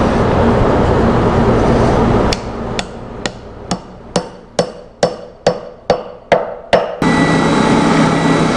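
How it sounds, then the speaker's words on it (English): Metal wedge being hammered into the top of a wooden handle on an old Keystone drop-forged hammer, about ten sharp, evenly spaced strikes ringing out close and loud after a stretch of steady background noise. "What I'm doing now is putting this metal wedge in."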